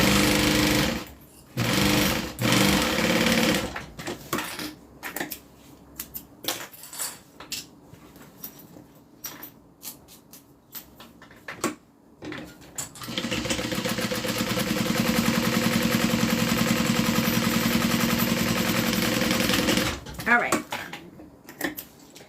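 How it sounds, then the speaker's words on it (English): A sewing machine runs in long, loud, steady bursts while top stitching a zip-around mini wallet, with starts, stops and handling clatter between runs, and a continuous stretch near the end. "Opening this up so that I can do a top stitch. This is the top stitch down the center."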